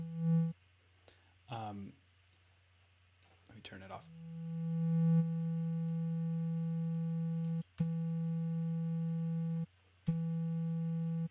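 A synthesizer oscillator sounds a steady sine wave tone, loud and sustained for several seconds with two brief gaps where it cuts out, preceded by short talk and chirping sweeps.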